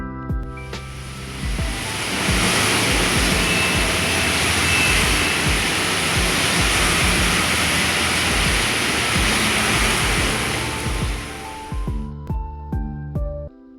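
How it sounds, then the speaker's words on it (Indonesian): Steady broadband rush of rain and road noise while riding a motorcycle through Bandung city streets, loud and continuous before cutting off near the end, with no talk. "gue kembali menyusuri jalanan kota Bandung di bawah rintik hujan"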